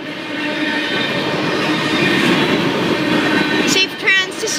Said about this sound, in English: You see the train going down there?